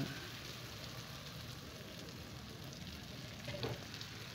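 Ground tomato and chili sizzle and fry steadily in a hot pan, a continuous crackling hiss with a brief stir around the end, no talking.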